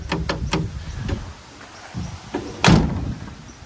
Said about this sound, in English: Let me show you what's going on with the passenger door.